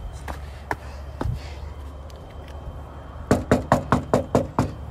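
Knocking on a house door at night: a run of about seven sharp, evenly spaced raps, close and fairly loud, after scattered softer taps over a low background hum.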